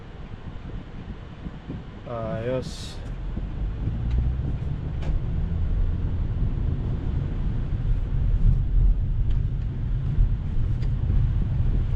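A Tesla truck rolls past on a busy street, a steady low rumble of road and wind noise that stays close and fairly loud throughout, with a brief spoken word early on.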